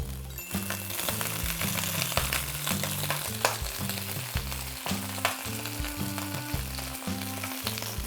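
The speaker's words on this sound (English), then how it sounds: "When the garlic starts to brown like so, you can add your lettuce." Lettuce stir-frying in garlic-infused oil, a steady close sizzle with repeated stirring scrapes and tosses in a regular rhythm, no talking.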